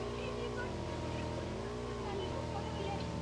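A car engine drones steadily in PUBG Mobile gameplay, a continuous whining hum that rises and falls slightly with a voice talking over it.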